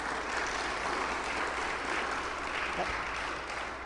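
Steady applause rises from a church congregation welcoming visitors, a full, continuous clapping that holds at an even level throughout.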